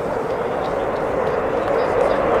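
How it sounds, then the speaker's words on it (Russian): Dassault Rafale fighter jet taking off at an air show in Zhukovsky, a continuous engine roar that swells slightly toward the end, with crowd or commentary noise faintly mixed in. "Внимание, взлет! Слева «Рафаэль» проходит!"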